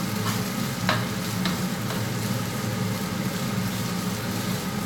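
Pork frying in flavored oil in a hot pot, a steady close sizzle with a few clicks of stirring, continuous and alone without speech.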